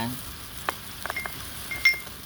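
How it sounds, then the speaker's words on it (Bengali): Spice pastes of garlic, ginger, cumin, chili and turmeric fry in oil in a pan for a pangas fish curry, giving a soft, faint hiss broken by a few light scrapes and clicks from stirring. "মশলা আমার দেওয়া হয়ে গেছে, এখন আমি মশলাগুলোকে ভেজে করবো।"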